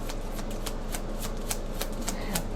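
Tarot cards are shuffled by hand in a quick, even riffle of soft papery flicks, close and fairly quiet, with no talking.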